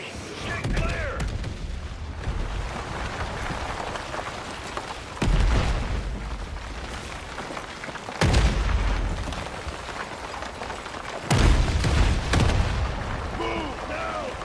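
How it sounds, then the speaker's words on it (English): Incoming artillery strikes in a combat scene, with heavy booms hitting every few seconds over a constant roar of gunfire and battle noise, and voices shouting throughout. "Incoming artillery! Get clear!"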